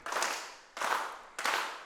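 A crowd at a wrestling match claps in three distinct swelling waves, each rising sharply and tapering off, fairly close and with no voices over it.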